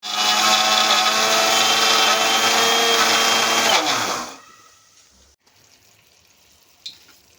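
A mixer grinder whirs loudly and steadily for about four seconds while grinding boondi for laddu, then winds down to quiet, followed by a single faint knock.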